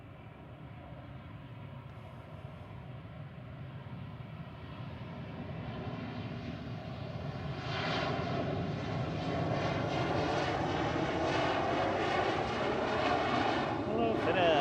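A Finnair airliner lands at Manchester Airport, its engine roar growing steadily louder and broader over the stretch, heard from a distance as a continuous rushing drone.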